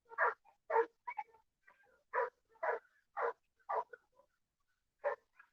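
Several dogs bark from across a backyard in a steady run of separate, evenly spaced barks with short yips in between. They sound moderately distant and are heard without talk.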